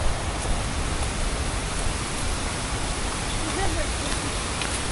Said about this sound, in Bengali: এই যে সামনে যে ঝর্ণাটা পড়ছে,